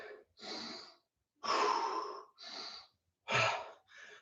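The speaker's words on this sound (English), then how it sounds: "So, catch your breath, breathe deep." Heavy breathing after a kettlebell workout comes as about six loud, close breaths, alternating sharp gasping inhales with long exhales, separated by short pauses.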